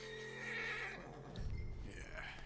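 A horse in the Red Dead Redemption 2 video game lets out a whinnying neigh, followed by a low snort and shuffling, heard fairly quietly alongside a faint voice.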